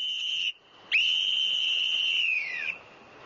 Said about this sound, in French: Ce coup de sifflet signale qu'on est prêt pour le départ.